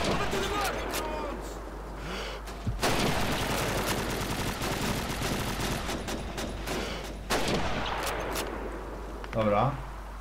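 Dense bursts of gunfire from the World War II shooter Call of Duty 2 fill the stretch almost without pause, loud and close, with rapid rifle and automatic fire layered together.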